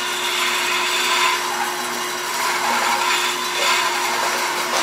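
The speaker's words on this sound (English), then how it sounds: "do a little bit of a shear scrape" A wood box spinning on a lathe while a tool shear-scrapes the hollow, giving a steady loud rushing scrape with a constant motor hum beneath and no pauses.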